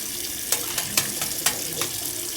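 A hand-pumped spray bottle mists plain water onto a wrinkled bedsheet, about six short, sharp hissing bursts in an uneven rhythm, close by over a faint background hiss.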